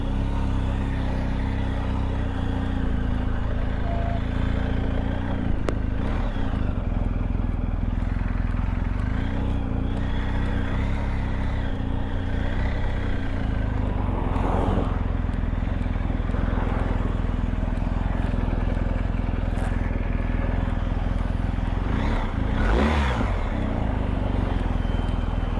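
BMW R1250GS Adventure motorcycle engine running while riding, a continuous low droning rumble with wind buffeting, steady and close, occasional brief rises in the roar.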